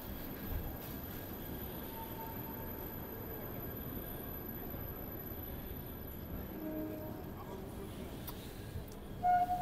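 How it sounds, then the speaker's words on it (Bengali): A new Sealdah–Balurghat express train pulls out of Sealdah station with a low, steady rumble of rolling wheels, a faint squeal near the end and voices murmuring in the carriage. "ট্রেন বন্ধুরা এখন ছেড়ে দিল আমাদের সোর্স শিয়ালদা থেকে।"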